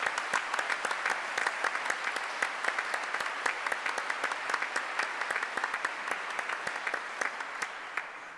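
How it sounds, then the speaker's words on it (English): A seated audience at a chief justice investiture ceremony applauds the judiciary, many hands clapping in a steady, crisp, even patter that carries on for several seconds and fades slightly at the end. "Would you give all of our judiciary a round of applause?"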